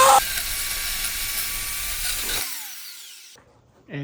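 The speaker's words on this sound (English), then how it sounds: "And don't judge me for my Ryobi grinder. It's just a grinder" A Ryobi grinder runs loudly and steadily with a high whine, then cuts off abruptly and winds down into near silence before a brief noise at the end.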